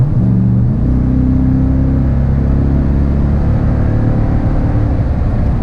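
A loud, deep exhaust rumble from a Toyota Tundra pickup with a Borla dual exhaust rises in pitch as it accelerates hard, then holds a steady, droning roar.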